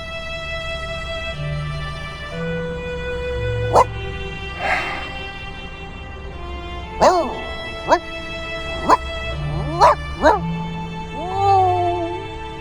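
A puppy in the video game Reverse: 1999 gives several sharp yips and barks, then whimpers, close and clear over soft background music.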